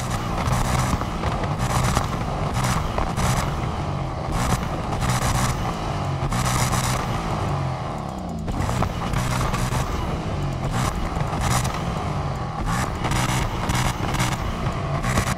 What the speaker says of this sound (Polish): I tu możemy sobie jeszcze posłuchać, jak samochód brzmi